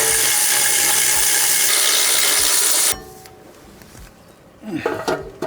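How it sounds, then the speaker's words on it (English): A ratchet wrench loosens the two 19mm bolts holding a brake caliper on a towing vehicle. A loud, dense burst of mechanical clicking fills the first three seconds, then drops to quieter shop rattles and a few clanks. "I'm going to pull this caliper off and then inspect it even more. Two 19mm bolts hold this caliper on."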